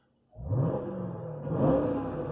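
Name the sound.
Jeep Grand Cherokee Trackhawk supercharged 6.2 litre V8 engine revving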